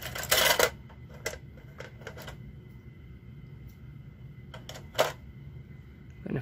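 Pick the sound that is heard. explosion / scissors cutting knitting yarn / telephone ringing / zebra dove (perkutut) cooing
scissors cutting knitting yarn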